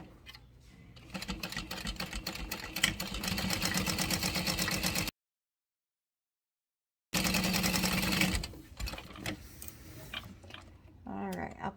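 A sewing machine runs in a fast, even ticking burst while stitching and backstitching a fabric strap, stops during a short silence, then resumes briefly before winding down.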